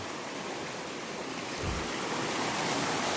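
A big, muddy river flows past in a steady, broad rushing wash heard close by, with no voices over it.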